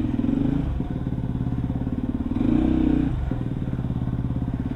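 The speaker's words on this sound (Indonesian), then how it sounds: "Mana sempit lagi mau muter motor panjang susah." A long supermoto motorcycle is maneuvered in a narrow dead-end alley, its engine chugging close by with a brief swell of revs partway through and a light clatter.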